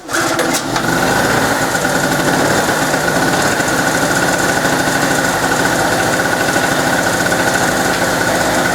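An old petrol generator runs on fuel over ten years old, its choke on and fuel shut off so the carburetor runs dry; a loud, steady, buzzing engine note carries on after a brief clatter at the start.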